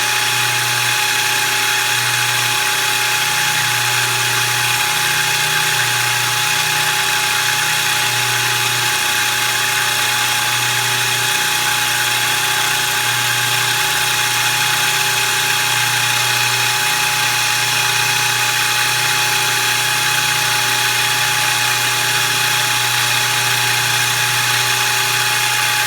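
A milling machine cuts valve reliefs into a Predator 212 hemi cylinder head, making a steady, loud, continuous high whine over a low motor hum that holds without a break.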